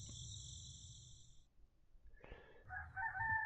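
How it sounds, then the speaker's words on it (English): Rooster crowing in a Touhou video game at night: a sustained, steady crow that cuts off, followed by shorter, higher chirping tones, with no talking. "I don't think there is a rooster near the White House"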